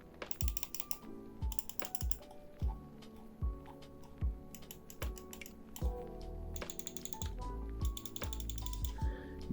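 Clicks from a Delux M500 lightweight gaming mouse with Huano switches, a series of crisp, fairly quiet taps repeating roughly every second at close range, with no speech.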